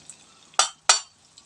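A spatula pushes sliced onion and small tomatoes around a pan while they sauté for a corn roast, giving two sharp, close scrapes a moment apart against a faint, quiet sizzle.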